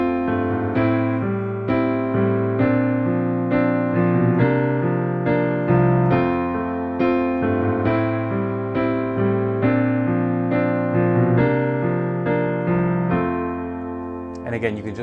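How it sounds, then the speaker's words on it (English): Piano playing a rocking eighth-note pattern of broken chords over a chromatic bass line, steady and close, with sustained notes ringing through and no talking until a brief shift at the very end. "we're talking about broken chords with a chromatic bass"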